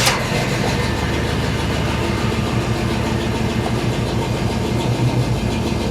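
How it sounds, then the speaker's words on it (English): A car with a 4L60 automatic transmission fires up with a sharp start, then settles into a steady, rumbling idle heard up close, with no talking over it. "And start the car."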